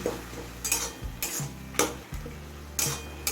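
Salted tomatoes softening in their own juice for chutney are stirred in a pan, with a spoon scraping and tapping the metal in a few distinct strokes over a soft simmering sizzle, no talk.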